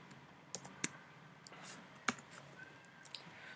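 Sparse key presses on a computer keyboard while code is being written, with a handful of separate sharp clicks spread out over a faint room background and no speech.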